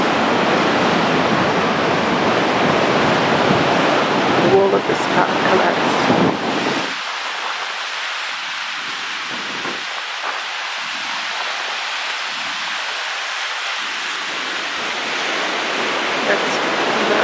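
Storm waves of the Atlantic Ocean lash a beach in Puerto Rico, a loud broad roar of crashing surf that drops to a lower rumble partway through, with a voice speaking over it.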